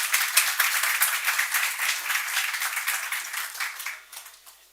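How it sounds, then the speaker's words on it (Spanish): Audience applause at a talk on data structures and algorithms for technical interviews, steady and dense at first, then gradually thinning and fading over a few seconds with no voices over it. "Esos aplausos avant la lettre generan más presión a veces que otra cosa"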